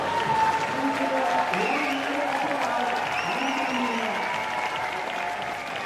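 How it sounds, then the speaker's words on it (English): Spectators at a DockDogs-style dock jumping finals clap and cheer steadily from a distance, with an announcer's voice and excited shouts carrying over the ongoing crowd noise. "Hear the crowd there. You could hear how psyched everyone was."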